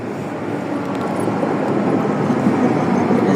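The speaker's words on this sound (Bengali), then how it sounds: "এই যে ট্রাম চলতেছে, এই যে ছোট ছোট ট্রাম" A small tram runs along a Berlin city street, giving a steady, fairly loud rolling rumble and hum that builds slightly and continues without a break, with no talking.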